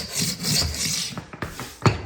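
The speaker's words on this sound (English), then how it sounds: "this scraper has shaved off just a weedy bitty bit to make it smooth" A hand floor scraper shaves small bumps off a floor being prepped for a Coretec tile install. It makes a steady close rasping stroke that ends in a few sharp knocks and scrapes.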